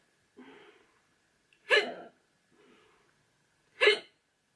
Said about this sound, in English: Trust me to get hiccups.